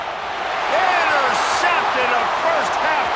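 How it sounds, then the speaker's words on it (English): Loud stadium crowd roaring continuously in a college football video game featuring LSU, a steady wall of cheering that swells around third down, with an announcer's voice running over it. "Listen to this crowd just shaking the girders of this place trying to help their defense."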